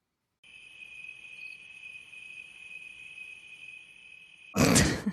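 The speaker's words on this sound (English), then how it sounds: "Crickets. Insert yes, crickets exactly." Crickets chirp in a steady, continuous high trill used as a sound effect, holding evenly for several seconds before a sudden loud burst of noise cuts in at the end.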